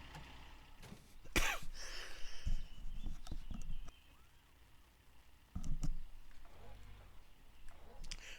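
A congested person lets out a few coughs and throat clears at close range, in two bursts with quiet gaps between them.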